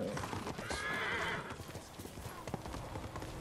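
A horse neighs and clip-clops at a gallop in the samurai video game Ghost of Tsushima, the whinny rising clearly early on, hooves thudding throughout at moderate, fairly close loudness.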